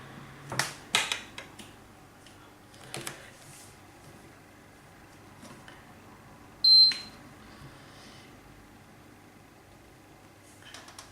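A Pressure King Pro electric pressure cooker gives a few faint button clicks and one short, clear electronic beep as its settings are adjusted in a quiet kitchen.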